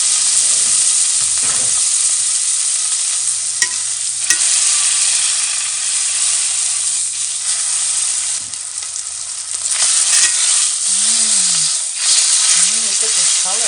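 Meat fries in a touch of olive oil in a stove pot, a loud continuous close hiss of sizzling with a few clicks and a faint whistle-like tone near the end.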